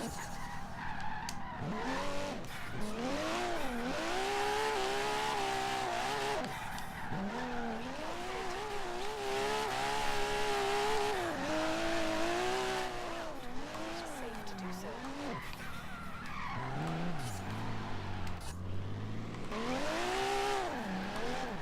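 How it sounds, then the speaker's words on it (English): A 1992 Toyota Supra 2.0 Turbo A-class drift car street drifting in Forza Horizon 3, with long, wavering tire squeals over a steady engine drone, loud and close, with brief speech now and then. "now we're gonna mix it up and do some street drifting"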